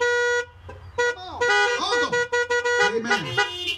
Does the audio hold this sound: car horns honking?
yes